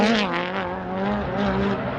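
A Mitsubishi Evo rallycross car accelerates hard during an AWD final at Marulan, a strained, rising engine note that wavers and climbs, heard fairly close and alone.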